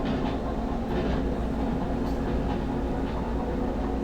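Train cars clatter over track switches in the Derail Valley simulator, a string of finicky flat cars rocking a little unsteadily; a steady, loud rolling rumble with faint rhythmic clicks runs throughout, with no voices.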